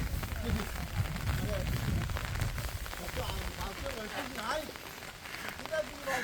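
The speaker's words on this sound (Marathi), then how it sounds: "पाऊस आता कोकणामध्ये बऱ्यापैकी पडतो आहे" Steady rain patters down on surfaces outdoors among Konkan rice fields, a constant hiss, while a person speaks over it.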